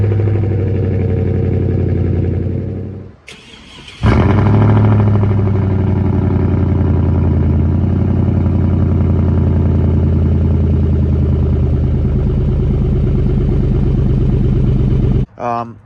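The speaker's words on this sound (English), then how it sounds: "I'm going to put a couple of cold start clips in this video." Cold start of a 2003 Chevy Silverado with a 4.8L V8 and stock exhaust manifolds: a short crank, a catch and a flare, then a steady loud idle that cuts off abruptly near the end.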